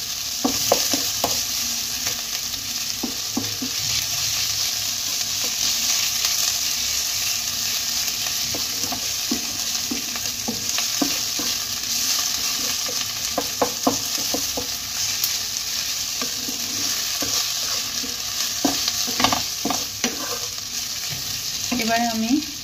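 Crushed ginger, garlic and onion sizzle in a hot pan under a continuous frying hiss, while a spatula scrapes and stirs in repeated bursts of clacks throughout.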